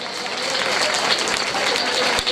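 An audience at a mushaira poetry gathering in Kasoda applauds, dense steady clapping from many hands filling the space loudly and continuously.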